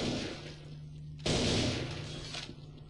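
Gunshot scoring a headshot in the PC shooter Counter-Strike: Source, a single sharp, loud report partway through over low steady background rumble, then decaying into ambient game noise.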